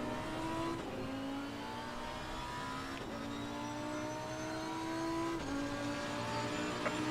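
A race car engine in the sim racing game Assetto Corsa Competizione at the Kyalami circuit drones steadily, its pitch gliding down and jumping back up with gear changes, loud and continuous with no talk.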